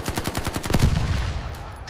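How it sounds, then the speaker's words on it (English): An M240 machine gun fires in a rapid burst, a close, loud string of evenly spaced shots that runs almost the whole time and then fades into a rumbling tail. "The M240 opens fire."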